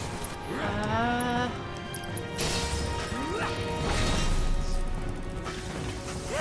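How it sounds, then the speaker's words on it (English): Tifa smashes objects during battle in Final Fantasy VII Remake, heavy crashing impacts landing amid a busy game soundscape with swooshes and tonal effects, fairly loud and dense throughout. "Tifa, like, smashing some things."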